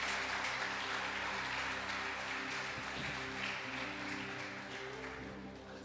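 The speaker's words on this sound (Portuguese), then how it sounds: "Vamos dar um aplauso a Jesus pela vida deles?" Church congregation applauding together in a large hall, a steady wash of clapping that carries throughout, with a sustained musical tone underneath and no speech.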